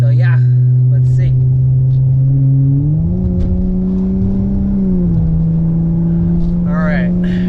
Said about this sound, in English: I'm gonna try to get up to highway speeds with the windows closed, see if I notice any like rattling or anything